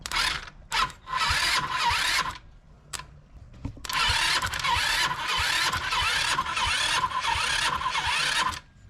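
A go-kart engine primed with a little fuel poured directly in sputters through brief cranking bursts, then catches and runs loud and steady for several seconds, close by with no talking.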